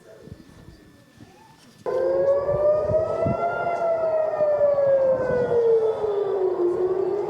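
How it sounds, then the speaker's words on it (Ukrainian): After a quiet moment, a loud air raid siren starts abruptly and wails steadily, its pitch slowly rising then sliding lower, continuous to the end. "Знову звуки сирен, повітряні тривоги, ракетні обстріли"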